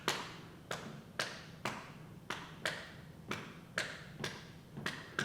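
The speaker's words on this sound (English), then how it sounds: "The Cubans have a metronome that they call a clave," Clave rhythm tapped out with a downbeat, a Cuban timekeeping pattern: ten sharp, dry clicks spaced unevenly in repeating groups, close and clear over a faint low hum, with no voices.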